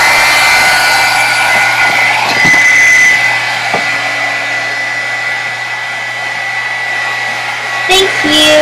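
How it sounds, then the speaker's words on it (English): A heat tool blows steadily to dry paint on a canvas, a continuous loud whirring hiss with a high whine that holds for several seconds, with a few faint knocks and clicks. "cover your ears because I'm going to turn on my heat tool"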